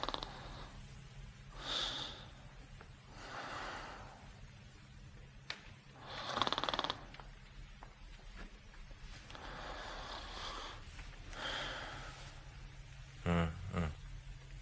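Dr. Watson snores while asleep in a Sherlock Holmes scene: slow, rhythmic breathy snorts repeating about every two seconds at moderate volume, with a short sharp clatter near the end.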